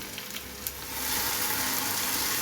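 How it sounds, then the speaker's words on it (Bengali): Hot tempering (baghar) poured into cooked lentil dal, a few crackles giving way to a steady, loud, hissing sizzle that fills the rest of the moment with no voices. "ডালটা রান্না করে নিলাম এবং বাগার দিয়ে দিলাম"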